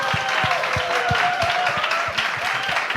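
A school audience applauds its graduating seniors at a school vision-sharing event, steady clapping under a faint tonal voice or music line, filling the short span at even loudness.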